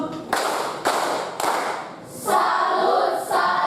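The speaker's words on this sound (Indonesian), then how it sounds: "Sekarang mari kita beri tepuk salut untuk mereka berdua." Children give a clap salute in a classroom, several sharp, loud group claps spaced about half a second apart, then a softer sustained patter.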